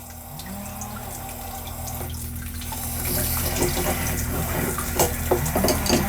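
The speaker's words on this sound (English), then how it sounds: "The water's not off." Water runs and splashes from a badly leaking outdoor shower valve, a continuous hissing flow with scattered drips and knocks, growing somewhat louder partway through, with a low steady hum beneath.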